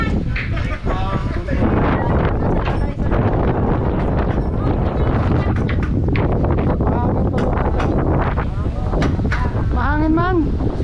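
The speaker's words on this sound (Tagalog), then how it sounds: "Mahangin man." Strong seaside wind roars steadily against the microphone as a loud, unbroken buffeting rush. Faint voices come through near the end.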